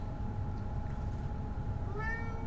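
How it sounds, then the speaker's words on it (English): A house cat gives a single short meow near the end, rising then falling, heard fairly clearly over a low steady background hum. "That's my kitty cat."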